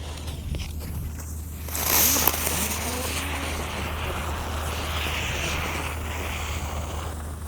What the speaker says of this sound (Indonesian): Dan ini kita lanjut menyalakan gangsingan atau roda gila.